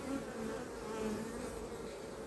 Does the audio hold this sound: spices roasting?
no